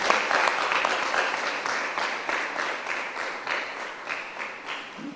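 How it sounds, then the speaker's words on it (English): Audience applauding at the 110th Calabar High School Founders' Day lecture, a dense, steady wash of many hands clapping that fades gradually over about five seconds. "Can we have another rousing round of applause for Dr."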